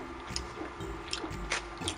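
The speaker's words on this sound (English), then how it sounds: "the reason for the chewing noise is because I'm eating my nighttime vitamins" Close, quiet chewing of nighttime vitamins, with soft wet crunches and squishy bites every half second or so over a faint background hum from a video game.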